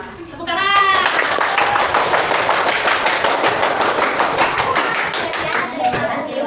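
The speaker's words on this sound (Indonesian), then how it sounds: "Tepuk tangan." A group in a coding and artificial intelligence training session claps together after a short spoken moment, sharp hand strikes building into lively, fairly loud applause that continues with slight variation until the end.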